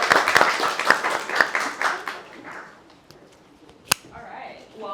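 A New York crypto meetup audience applauds for a speaker in a brief burst of mixed clapping and chatter, fading after a couple of seconds into quieter room sound with one sharp knock.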